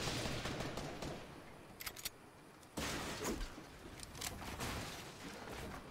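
Gunfire in the Fortnite video game, with bursts of rapid shots and sharp cracking impacts over a busy, noisy game mix, fairly faint overall.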